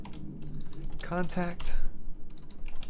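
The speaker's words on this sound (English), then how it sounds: "going ahead and typing it in real quick like so" Rapid keystrokes on a computer keyboard, a steady run of close, crisp clicks, with a single short spoken word breaking in midway.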